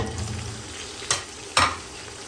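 Whole biryani spices fry in a pot of hot oil for beef biryani with nutmeg and mace, a steady close sizzle broken by two sharp bursts of spattering as more ingredients hit the pan.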